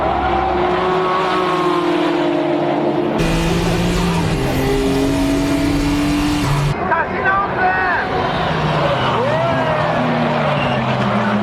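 A turbo-boosted race car pulls past a Nismo Skyline GT-R at Tsukuba, with loud engines droning and shifting pitch and brief tire noise, under a commentator talking throughout.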